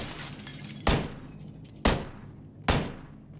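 Three sharp gunshots in the battle royale video game PUBG, spaced about a second apart, each a loud crack with a short decaying tail over quiet background, no talk during the shots.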